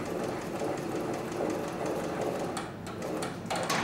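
A CB6900 leather sewing machine runs steadily, a continuous mechanical whirr with rapid stitching rhythm, close and fairly loud, with brief ticking clicks near the end as the work is turned.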